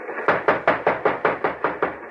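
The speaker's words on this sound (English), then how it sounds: "Now, knock and yell for the guards to open the door to the mail car." Repeated knocking on a mail-car door aboard a train, about ten evenly spaced, loud, close raps in a steady rhythm with nothing else over them.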